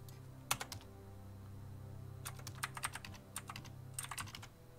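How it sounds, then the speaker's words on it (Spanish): Keyboard typing from the text adventure game Stories Untold, arriving in several quick bursts of clacking keystrokes over a steady low hum, with no one speaking. "se escucha el sonido como si estuviese tecleando"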